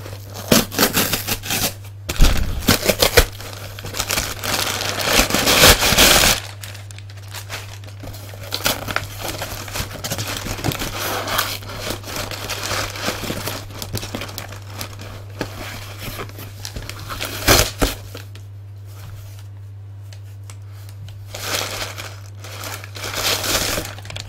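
Paper packaging crinkling and rustling as a King Ghidorah vinyl action figure is unboxed, loud bursts of crumpling at first, then softer intermittent handling over a steady low hum.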